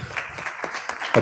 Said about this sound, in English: Applause here in the room.